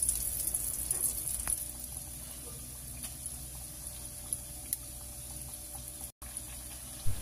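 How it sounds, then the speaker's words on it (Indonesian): Sweet potato sticks frying in oil over medium-high heat, a continuous soft hiss and bubbling sizzle with occasional faint pops and clicks, steady throughout. "Kemudian goreng dengan api sedang cenderung besar seperti ini menggorengnya ya guys."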